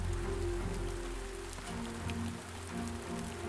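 Rain falls steadily in a constant, soft hiss of drops on surfaces, with a low hum and tonal background under it, fairly quiet and unbroken throughout.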